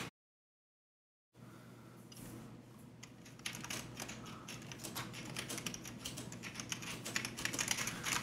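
After a brief silence, rapid fingers type on an AZOLT gCrusader full-size half-mechanical keyboard, a dense run of close, crisp key clicks that grows busier and louder toward the end, with no voices.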